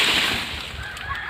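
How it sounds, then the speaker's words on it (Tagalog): Farmyard ducks at dusk honk in a quick, nasal run of calls, fairly close over a soft outdoor background. "Pato."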